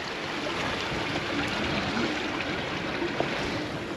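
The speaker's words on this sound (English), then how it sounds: "So it's our last stream crossing before we get to Lich Tor." A moorland stream on Dartmoor, near Tavy Hole and Fur Tor, flowing steadily with a constant close rush and trickle of water and no talking.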